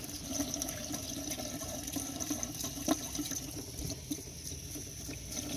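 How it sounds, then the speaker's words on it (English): Cold water runs steadily from a tap in an RV fresh water system, with a constant hiss and splash, fairly quiet and unbroken, with no voices. "So I'm going to turn on the cold, and we're going to let it run"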